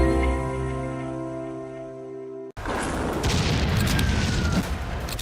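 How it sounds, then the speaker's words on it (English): Heavy bombing explosions in Nabatieh during an ongoing war: a steady tonal drone cuts off abruptly into a loud, dense, sustained roaring rumble that fills the rest of the clip. "It is sound of massive explosions here in Nabatir"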